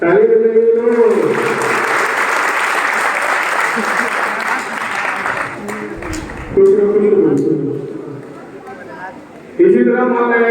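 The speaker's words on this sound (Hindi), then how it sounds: "ताली बजाइए लोग।" An audience claps steadily at a student award ceremony at a coaching centre. Someone speaks at the start, partway through and again at the end, and the applause thins as his voice returns.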